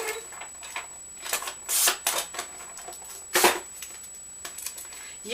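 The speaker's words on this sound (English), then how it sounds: "so I'm going to run this through my Xyron" A Xyron adhesive machine feeds paper for custom 3-D embellishments, giving a few quiet, brief clicking and rasping bursts spread across the clip, close by, with no talking.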